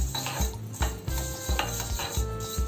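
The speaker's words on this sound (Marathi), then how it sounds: "या 1 टेबलस्पून मेथ्या घेतलेल्या आहे. या तेलात चांगल्या लाल रंगावर परतवून घेऊ." Fenugreek seeds roasting in hot oil for a raw mango pickle, with a spoon scraping and clinking against the pan in a steady rhythm over a low background sizzle, close and fairly loud.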